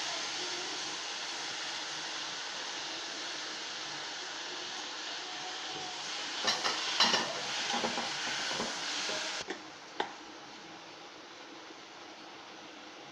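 Drumstick leaves frying in a pan with onion and tomato for kambu sadam, a steady close hiss of sizzling oil with a few clinks and stirring scrapes partway through, no voices.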